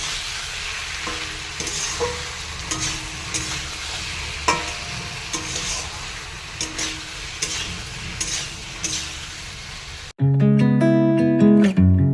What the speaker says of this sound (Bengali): মশলা কষানো হয়ে গেছে, জল দিয়ে দিচ্ছি।